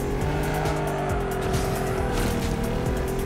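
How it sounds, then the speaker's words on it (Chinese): Tire squeal of a drifting sports car in the racing video game Ace Racing, a continuous high screech over a loud revving engine, steady and close, with no talk. "他甩尾声怎么那么小声啊"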